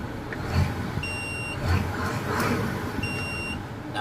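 A Mitsubishi Fuso truck with a 270 hp 6M60 engine, fitted with an electronic throttle box, revs up in a low, rumbling swell of engine noise, with two short electronic beeps ringing over it.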